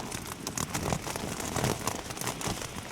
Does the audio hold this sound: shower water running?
no